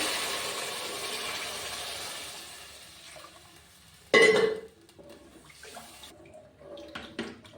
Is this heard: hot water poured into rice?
yes